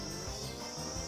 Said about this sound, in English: It sounds like cicadas are outside if you can hear that.